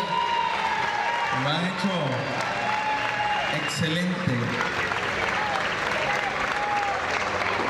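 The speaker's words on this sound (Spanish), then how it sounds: "Un fuerte aplauso para ellos." A school event crowd claps steadily in a hall, with warm sustained applause under a voice speaking in Spanish over a loudspeaker.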